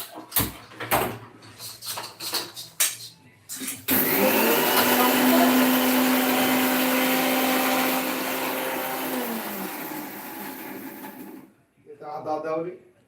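Electric mixer-grinder whirring as it blends a spice paste with green chillies in a home kitchen, a steady loud motor whine for about seven seconds that slowly winds down, with clattering handling noises before and after.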